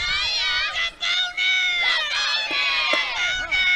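Softball players in a dugout at Gulf Coast yelling and chanting in high-pitched overlapping voices, loud and sustained with brief gaps, close to the microphone.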